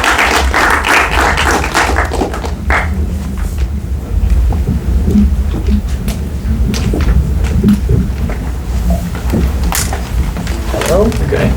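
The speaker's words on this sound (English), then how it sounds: "Can we get a round of applause for the filmmakers," At a film festival Q&A screening, the audience applauds the filmmakers with a loud, rough patter of clapping, mixed with room rumble and voices talking over it.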